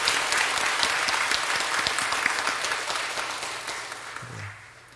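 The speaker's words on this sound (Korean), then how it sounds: "하나님께 감사와 영광에 또 박수를 올려드리겠습니다." Congregation at a New Year's Eve church service applauds in thanks to God, a dense, steady burst of clapping that fills the room and then tapers off near the end.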